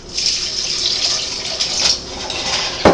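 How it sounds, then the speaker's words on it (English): A steady stream of two cups of water pours and splashes into a pan, a continuous hissing rush, ending with a brief clatter. "And then to this pan, you're going to add 2 cups of water."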